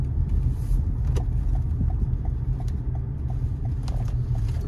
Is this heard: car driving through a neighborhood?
yes